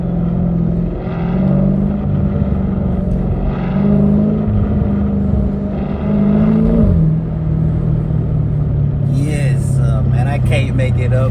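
A Lamborghini Urus with a mid muffler delete roars as it accelerates, its loud, steady engine drone rising and shifting, while people talk and shout over it nearby.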